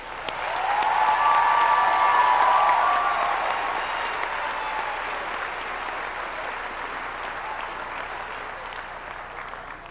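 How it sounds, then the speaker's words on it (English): Applause from the audience at a university graduation ceremony, a dense wash of clapping that swells loudly in the first seconds, then gradually thins and fades while continuing. "Let's give them a round of applause."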